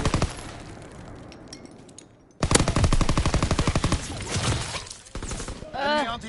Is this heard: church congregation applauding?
no